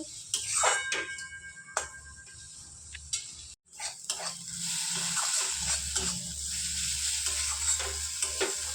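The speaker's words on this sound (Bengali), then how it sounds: "এবার একটু জল দিয়ে দিচ্ছি, এটাকে ভালো করে কষিয়ে নেব" Spice paste of ground coriander and cumin, loosened with a splash of water, sizzles and bubbles in a pan for a soybean and potato curry, with close, repeated spatula scrapes and a steadier frying hiss in the later part.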